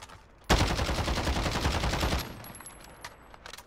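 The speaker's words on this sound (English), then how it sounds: "Let me try with a gun that has a kick." A gun with a strong kick fires a rapid sustained burst of loud, dense shots for well over a second, then cuts off, leaving faint background noise with a few small knocks and no talk.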